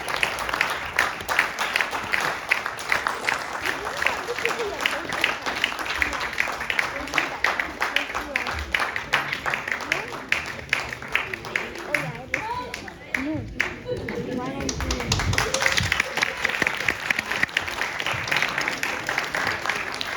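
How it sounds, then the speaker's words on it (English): Sustained applause from an audience honouring child performers at a Celebrate Bihar cultural event, steady dense clapping running the whole time, with some speech-like sounds and crowd noise mixed in. "A big round of applause for all of our kids who have played this role."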